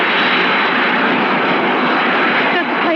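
A ghost plane's engine passing overhead in a radio mystery drama, a loud sustained droning roar that fills the whole moment with steady intensity and a slight dip near the end.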